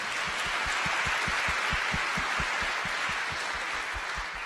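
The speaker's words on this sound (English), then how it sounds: "Give Julie a round of applause" A town hall audience claps for Julie at Representative Mike Levin's event, with sustained crowd clapping and steady rhythmic pulses throughout, and no talk over it.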